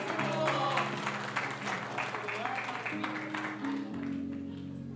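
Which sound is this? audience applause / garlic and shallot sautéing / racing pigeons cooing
audience applause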